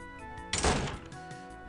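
A door in the video game Project Hell X opens or shuts with a single dull thunk over a quiet ambient game background, brief and fairly near.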